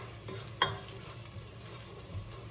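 Garlic browning in a pan gives a faint, even sizzle with one brief utensil tap near the start, quiet and alone.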